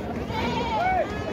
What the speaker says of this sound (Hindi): देख लो दोनों एक जैसे बकरे